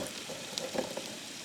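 Precooked Indonesian chicken set in a hot cooker begins to reheat with a quiet, soft sizzle and a few light crackles and pops, faint and close with no voices.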